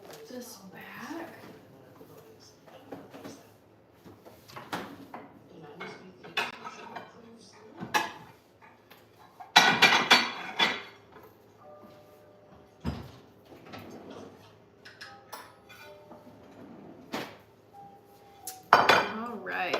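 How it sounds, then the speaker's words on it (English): Vegan fried rice is served from a pan, with metal utensils clinking and scraping against cookware in scattered bursts, mixed with occasional knocks and light talking nearby. "So let's dish up some of this stir fry"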